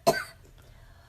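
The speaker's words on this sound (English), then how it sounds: "That's a terrible coughing." A single harsh cough bursts out close and loud, then quickly gives way to near silence with only a faint low background hum.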